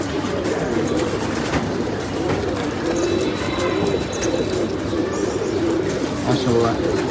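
Pigeons coo steadily over a continuous outdoor background while a female bird arrives at the loft, with bird calls layered through most of the stretch and a constant low rumble underneath.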